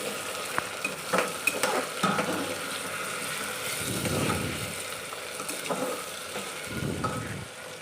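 Potatoes and peanuts fry in an open pan for a fasting rice dish, a steady close sizzle with intermittent scraping stir clicks and a few bumps of the spoon against the pan throughout.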